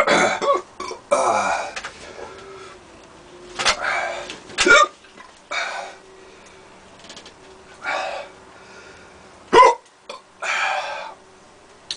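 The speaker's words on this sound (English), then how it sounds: "Today we're not going to get away with the hiccups" Hiccups from someone who has just eaten a Moruga chilli: about eight or nine sharp, close bursts at irregular intervals over twelve seconds, with quiet breathing between them and no speech.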